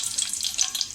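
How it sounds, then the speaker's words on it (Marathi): Ten or twelve curry leaves crackling and sizzling in a little hot oil for tempering a Malvani fish curry, a bright continuous spitting hiss, close and fairly loud, heard alone. "आता ही 10-12 कढीपत्त्याची पानं टाकूया।"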